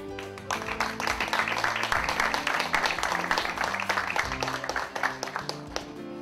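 Audience at a book presentation in Spanish applauding, a full, sustained round of clapping over a low background hum, steady for several seconds before easing off.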